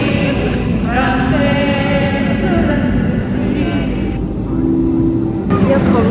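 Steady broadband airplane cabin roar on a flight, loud and continuous throughout, with excited passengers talking and laughing over it.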